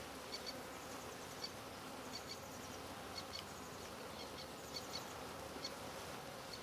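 Honey bees hum around a backyard hive during routine homestead maintenance, a continuous faint buzzing swarm with occasional nearer passes and no voices.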